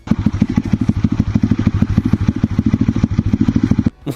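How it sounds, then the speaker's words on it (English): A 1925 Yula-1 tractor's small single-cylinder engine chugs close and loud in a rapid, even thumping rhythm before cutting off abruptly near the end. "Is that a one-cylinder engine?"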